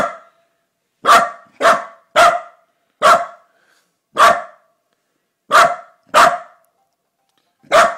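Dog barking recorded from a recording played on an iPad, eight sharp, loud single barks spaced irregularly with short silences between them.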